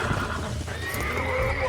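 A horse in the Red Dead Redemption video game neighs in a loud whinny, with game hoofbeats clip-clopping beneath a steady bed of ambient sound.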